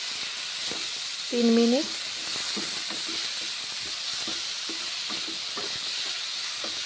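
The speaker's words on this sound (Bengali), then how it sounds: "কষে নিচ্ছি মশলা" Spice masala sizzles steadily in a pan while being sautéed for a Bengali mourola fish curry, a constant soft hiss with small clinks and a brief spoken remark.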